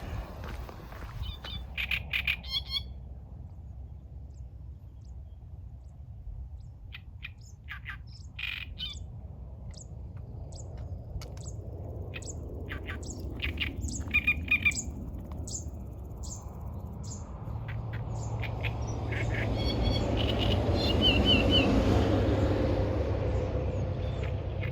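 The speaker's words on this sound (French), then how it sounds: "Je ne sais pas ce que c'est que cet oiseau, j'ai jamais entendu. Il est bien bavard en tout cas." An unidentified bird chatters and chirps repeatedly in the countryside along a pilgrimage path near a motorway. Its clicks and squawks come in quick bursts over a low traffic rumble that grows louder toward the end.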